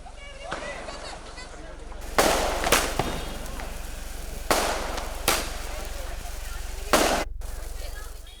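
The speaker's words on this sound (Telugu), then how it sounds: "సాయంత్రం నుంచి టపాసుల సవడి మొదలైంది." Diwali firecrackers burst in a festive evening street, with several sharp bangs spaced a few seconds apart over a constant crowd-and-talk background.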